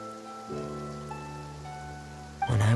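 Steady rain falls in the city of Fontaine in the Genshin Impact video game, a soft hiss beneath sustained musical tones, ending in a sudden louder burst.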